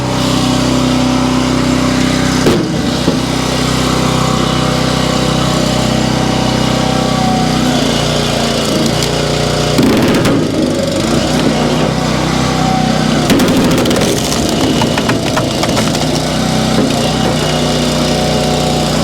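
Small gas engine on a Split Force 9 towable vertical log splitter driving through an oak knot, a loud steady engine drone with brief strained dips and cracks of wood as the log gives.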